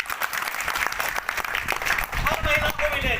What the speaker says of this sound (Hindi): आप ताली बजाकर स्वागत करो